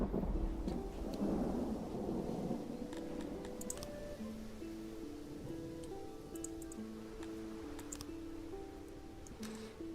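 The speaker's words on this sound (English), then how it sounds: "That was like the quadruple lightning effect." A thunderclap from a quadruple lightning strike in the city-building game Songs of Syx rumbles low and loud at first, then fades under soft ticking clicks and scattered tonal game blips.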